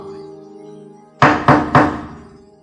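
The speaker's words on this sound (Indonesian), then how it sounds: "Lalu terdengar lagi ketukan kedua." Three firm knocks on a wooden door in quick succession, loud and close, following a faint steady hum with no voices.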